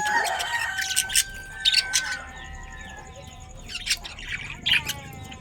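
Pet lovebirds in a cage chirp and squawk in repeated bursts of high, close calls, with quieter gaps between the louder clusters.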